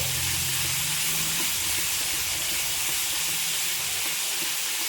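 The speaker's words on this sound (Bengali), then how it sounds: "এবার আমি মশলাটা ভালো করে কষিয়ে নেব" A spice masala of turmeric and chili powder frying in a pan for coriander-leaf pickle, a loud, even sizzling hiss throughout, close and uninterrupted, with no voices.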